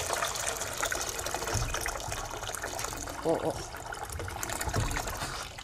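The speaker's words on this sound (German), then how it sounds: "Und einfach so dann das Wasser hinein und ein bisschen rühren." Water running into a pot of rice for washing, a steady close trickle and splash that continues throughout, with a brief exclamation from a person partway through.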